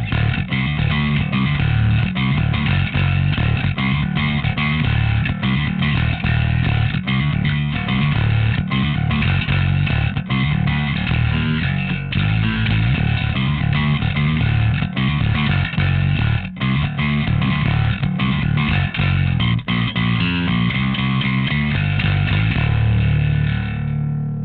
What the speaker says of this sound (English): we're gonna throw a dark glass distortion pedal into the circuit. We're gonna go to both pickups up full, and we're gonna dig in with a heavy pick